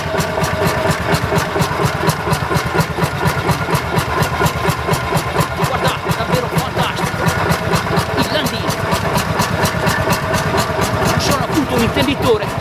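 An old tractor engine chugs in a steady, rapid rhythm close by at a vintage tractor show, with someone talking over the running motor.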